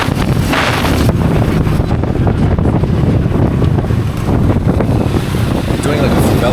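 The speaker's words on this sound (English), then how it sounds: "It's starting to get windy. I'm not liking the wind." Strong gusty wind on Copacabana beach roars into the microphone as constant loud buffeting, with faint surf and a voice partly buried beneath it.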